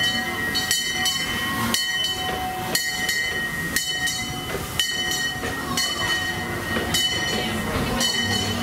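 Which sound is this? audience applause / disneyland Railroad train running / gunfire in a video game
disneyland Railroad train running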